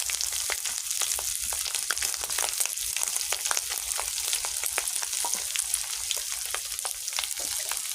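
Ginger and onion dropped into hot oil with browned garlic, frying with a steady close sizzle and crackle, dotted with small pops and the occasional stir of a spatula.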